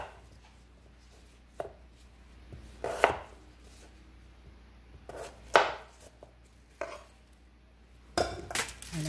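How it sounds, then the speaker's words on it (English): A heavy knife chops potatoes on a cutting board in sparse, irregular chops, each a sharp thud separated by quiet pauses. "I like the big chopper, big chopping knife."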